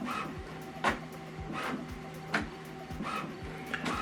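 An HP printer printing an alignment page whirs and clicks in a repeating mechanical cycle, with sharp ticks and sliding carriage sweeps roughly every second and a half, close and fairly quiet with no voices.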